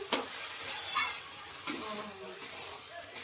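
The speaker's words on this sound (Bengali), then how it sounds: "দুধটা দিয়ে একটু নেড়ে চেড়ে সুন্দর করে নেওয়া হচ্ছে" Bottle gourd cooking in a pan with about a cup of milk is stirred, giving soft sizzling under intermittent spatula scrapes and clinks, close and moderate in level.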